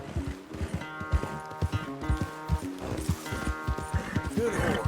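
A horse in the video game Red Dead Redemption 2 snorts and whinnies while hooves clop in an uneven rhythm close by, with a voice talking softly over it.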